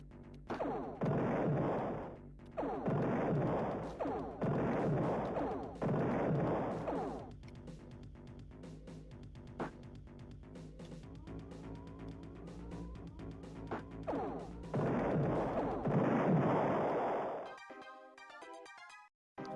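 Gatling cannons firing during space combat in the Star Control 2 video game: loud bursts of rapid gunfire in repeated blasts with electronic game tones between them, then a rising burst before a stuttering synthetic sound at the end.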